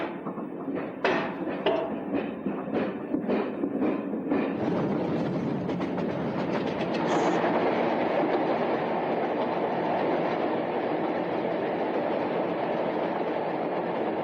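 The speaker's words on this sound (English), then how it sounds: "The driver has to push the crash train to exactly the right speed" A crash test train on the Old Dalby test track rolls along the rails, starting with a series of sharp rhythmic clacks over rail joints that give way to a sustained rumbling roar as it gathers speed, fairly close and heard alone.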